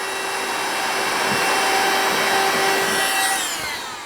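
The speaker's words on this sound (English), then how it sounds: "I have been using my little nifty handheld vacuum cleaner" A small handheld vacuum cleaner whines steadily and loudly, rattling as it sucks up loose model railway ballast from around the track sleepers, then winds down at the end.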